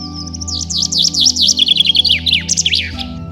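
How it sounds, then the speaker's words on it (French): Common chaffinch singing in trees outdoors, a loud, close, rapid series of descending chirps running for about three seconds over a steady low hum. "Pinçons des arbres."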